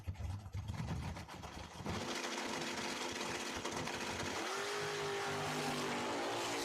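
Chevrolet Camaro and Ford Mustang launching side by side at a dragstrip, engines roaring loud and continuous, with a rising tone as one car pulls through the gears, heard at some distance.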